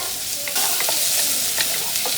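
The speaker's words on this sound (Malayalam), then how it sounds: "ഉള്ളി ഒന്ന് ട്രാൻസ്ലൂസൻ്റ് ആവുന്നത് വരെ നമുക്ക് നന്നായിട്ട് സോട്ട് ചെയ്തെടുക്കാം." Onions sautéing for a Kerala-style prawn roast hiss loudly and continuously in the pan, with repeated spoon strokes scraping through them and nobody speaking.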